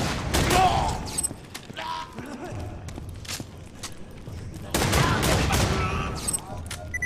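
Gunfire in the video game Borderlands 2: bursts of rapid, close weapon fire with booming blasts, coming in louder clusters near the start and again in the second half over a busy game soundscape.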